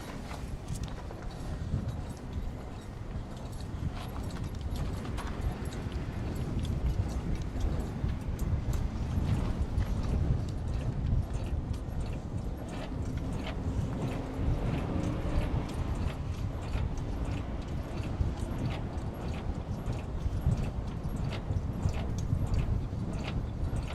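Trailer landing gear being lowered by turning the crank handle clockwise in high gear during a daily trip inspection, heard as a steady, rhythmic mechanical clicking and ratcheting that carries on close by for the whole stretch.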